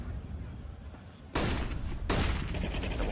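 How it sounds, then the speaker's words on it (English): Two loud broadband gunfire bursts from an AK rifle in a Counter-Strike match, arriving at about 1.3 and 2.1 seconds over steady game background noise, with a sharp onset on each. "just a couple of bullets in this AK will take him down"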